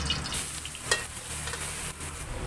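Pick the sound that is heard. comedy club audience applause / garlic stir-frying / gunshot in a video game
garlic stir-frying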